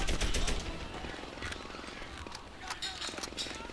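Machine gun fire in the video game Medal of Honor Airborne: a rapid rattling burst, fairly faint and distant, with someone talking over it.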